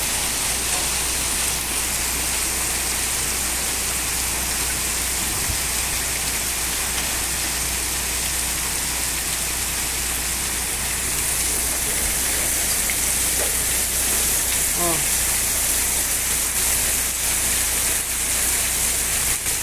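Heavy rain mixed with small hailstones falls on the ground, a dense, loud, steady hiss of water that grows slightly stronger toward the end, with no talk heard.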